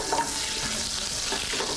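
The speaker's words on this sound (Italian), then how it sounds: "il burro è quasi sciolto, perché nel momento che non frigge più, non contiene più acqua e quindi è pronto per la cottura" Butter melting in a pan over heat, a steady close sizzle and faint crackle that carries on unbroken, with no voices.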